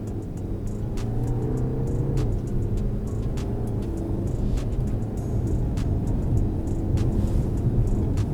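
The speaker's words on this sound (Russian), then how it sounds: "Просто по максимуму нажимаем на газ, объезжаем вот эту машину" A BMW 520d xDrive engine roars steadily at full throttle on a winter road, a loud continuous drone as the car accelerates hard, with no talking.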